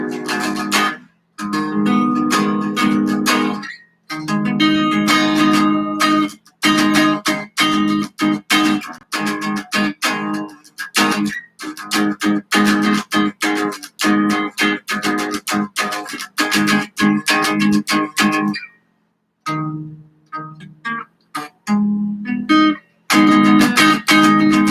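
Guitar chords switched in practice on the bottom four strings, strummed in a loud steady rhythm with brief gaps between chord changes, alone without talk.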